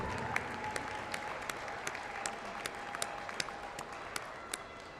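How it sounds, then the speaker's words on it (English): Sustained applause from graduates and families at a university commencement ceremony, a dense steady wash of clapping across a large hall with a few sharper individual claps standing out. "recognize and applaud these dear friends and family members"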